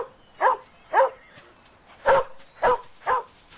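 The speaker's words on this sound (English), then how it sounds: "What is the matter with that dog?" A dog gives six short, whining barks and whimpers in an uneven rhythm, each a distinct yelp, fairly loud and close against a quiet background, with no talking.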